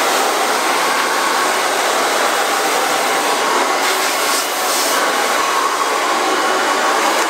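A hair dryer blasts steadily while blow-drying toned blonde hair to mostly dry, a loud, continuous broadband whoosh held for several seconds with no talking.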